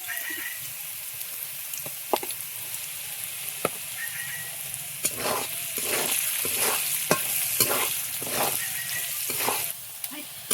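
Carrots sizzle in hot oil while being stirred for chicken chowmein, with scraping strokes of the spatula coming in bursts in the second half over a steady frying hiss, close by.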